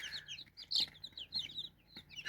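Newly hatched broiler chicks peep in a busy chorus of high, short chirps, several overlapping at once, close by and fairly soft.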